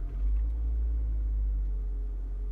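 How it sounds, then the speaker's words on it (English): Toyota Auris Hybrid combustion engine idles after starting, a low steady rumble with a faint hum, heard close and alone without any talk. "The engine is running now,"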